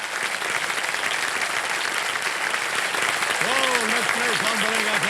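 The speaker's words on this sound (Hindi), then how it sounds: "एक बार तालियां बज जाएं अर्चना जी के लिए।" Studio audience applause on a television quiz show, a steady dense wash of clapping throughout, loud and continuous, with a voice rising briefly over it near the end.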